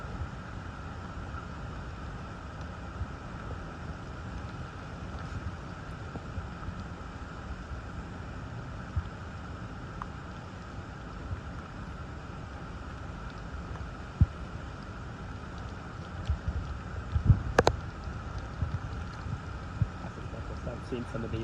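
Strong gusts from Hurricane Idalia sweep a waterfront park in downtown St. Petersburg on Tampa Bay, a steady broadband roar of wind buffeting the microphone, with a few sharper knocks near the end.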